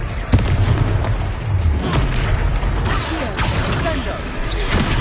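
A Confringo blasting spell from a Harry Potter video game, heavy booming impacts rolling over a dense, loud battle din, with a sharp blast near the start and voices speaking throughout.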